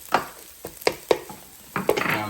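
Garlic frying in a Power XL cooker during lobster fried rice prep, stirred and broken up with a few distinct scraping, clattering strokes over a soft sizzle, close and moderately loud.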